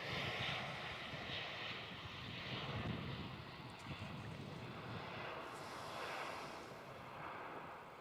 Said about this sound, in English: Long takeoff there for Virgin.